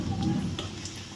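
Whole cumin, dried red chillies and whole garam masala sizzle softly in hot oil, a brief steady frying hiss with faint stirring, close by.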